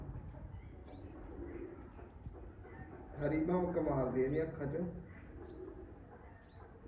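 Mirab pigeons coo softly in the background while someone talks over them, the cooing rising more clearly for a few seconds midway.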